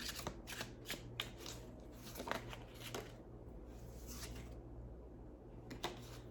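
Cards being shuffled close up, a run of crisp riffling bursts and soft shuffles spread over several seconds, with no talking.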